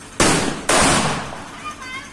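Firecrackers set off outdoors, several fired together: two sharp, loud bursts in close succession, each followed by a crackling, fizzing tail that fades over a couple of seconds.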